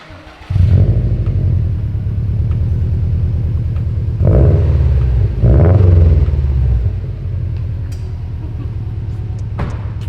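A 2019 Subaru WRX STI engine with a newly installed N1 exhaust idles with a deep, throaty exhaust rumble, rising briefly in a couple of revs before settling back to idle.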